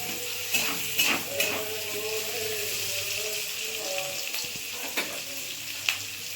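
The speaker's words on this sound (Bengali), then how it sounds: "এরপর স্লাইস করে কেটে রাখা ক্যাপসিকাম, দিয়ে হালকা হালকাভাবে নাড়াচাড়া করতে হবে।" Sliced capsicum frying in an oiled pan while being gently stirred, producing a continuous close sizzle punctuated by occasional clinks and scrapes of the spatula against the pan.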